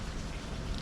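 Rain falls steadily outside a balcony, a dense, even hiss of drops with no talking.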